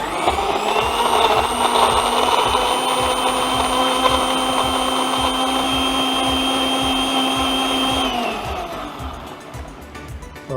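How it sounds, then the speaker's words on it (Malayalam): A kitchen mixer grinder whirs steadily, blending cucumber juice with a strong, constant motor drone that holds for about eight seconds and then winds down as it is switched off. "നമ്മുടെ ജ്യൂസ് മിക്സിയിൽ ഗ്രൈൻഡിങ് പ്രോസസ്സ് പ്രോപ്പറായി."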